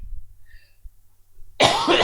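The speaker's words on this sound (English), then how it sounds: "Sounds like I'm dying of tuberculosis, but no, I just have a cough lately." A person's cough bursts out loud and close near the end, a rough, harsh cluster after a stretch of near silence, with nobody talking over it.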